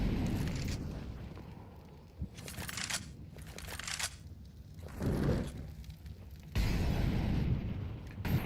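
A grenade exploding during a professional Counter-Strike match: several muffled booms and bursts spread across the clip over a low game background, with a heavier blast toward the end.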